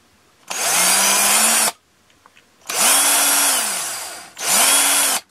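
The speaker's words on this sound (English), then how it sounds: "I'm just going to drill the powder out, and the drill will come to a hard stop." A power drill clears residual powder from a 3D-printed Tamiya CW01 rear lower shock mount in three bursts, each a loud, steady whine that dips in pitch under load, separated by brief quiet pauses.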